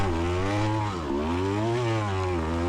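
Motocross dirt bike engine revving steadily as it climbs a hill on a kids' MX/XC race course, a loud, close, sustained buzzing drone with rising and falling pitch.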